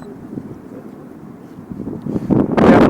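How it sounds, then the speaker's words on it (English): Strong gusty wind buffets a microphone outdoors at an RC flying session with a Freewing 737-800 model jet, the low rumbling roar steady and then surging louder and harsher toward the end. "it has gotten progressively windier"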